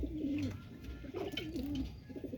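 Pigeons being bathed with shampoo coo softly in short warbling phrases, close and fairly quiet over a light background hum.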